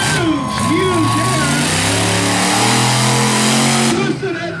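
Monster truck engine with about 2,000 horsepower roaring and revving hard at a freestyle show, loud and continuous with pitch swings, an announcer talking over it.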